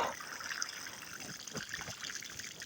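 Well water poured from a bucket splashes and trickles steadily onto garden soil around tomato plants, a soft continuous pour with gurgling bursts, close by and alone.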